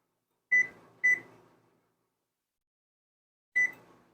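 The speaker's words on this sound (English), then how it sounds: "Let me turn this oven on." An oven being switched on and set to 375, giving three short, clear electronic beeps: two in quick succession, then a pause of about two seconds before a third, in an otherwise quiet room.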